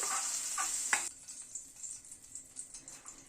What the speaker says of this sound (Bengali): পনিরগুলোকে হালকা করে ভেজে তুলে নিচ্ছি।